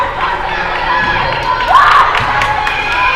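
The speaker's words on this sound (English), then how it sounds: "Got the crowd getting into it a little bit here." A crowd at a high school volleyball match cheers and shouts continuously, children's voices rising in a loud swell of excitement through the gym.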